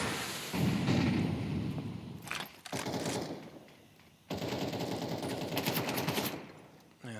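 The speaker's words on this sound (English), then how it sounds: "Grenade gonna go in behind it. And Zeralt eating a lot of the shrapnel." Counter-Strike match gunfire and a grenade blast, with sustained rattling bursts, a sharp break, then another dense stretch of shooting and explosion noise, loud and continuous throughout.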